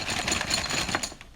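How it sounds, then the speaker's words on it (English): Continuous rustling and clattering of small plastic pieces being shaken in a bag, close and fairly loud, steady throughout with no voices. "Sorry about the noise, my microphone is right next to the bag of chips here"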